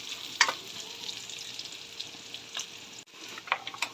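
String beans go into a hot pan for adobong sitaw, setting off a steady close sizzle and frying crackle, broken by a few sharp clinks of a utensil against the pan, with no voices.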